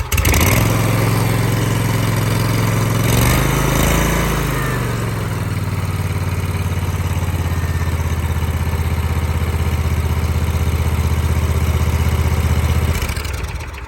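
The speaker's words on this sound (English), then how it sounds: "So we're going to start it up." A Bobcat zero-turn mower engine runs close by just after an oil change, holding a loud, steady idle with a brief shift in pitch early on before settling into an even drone.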